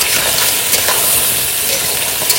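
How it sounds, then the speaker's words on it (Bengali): Salt, turmeric and cumin powder sauté in a pan for a crab dish, producing a loud, even sizzle broken by faint stirring scrapes and no voices. "এবার এটাকে সুন্দর করে কষে নিই।"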